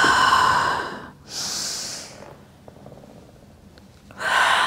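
Deep breathing during a mat Pilates hip strength session: a long exhale, a pause, then quieter breaths. Steady breath noise stays close and alone, with faint room tone between the breaths.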